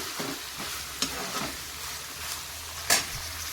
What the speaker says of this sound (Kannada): ಈಗ ಇದನ್ನು ಚೆನ್ನಾಗಿ ನಾವು ಫ್ರೈ ಮಾಡಬೇಕಾಗುತ್ತೆ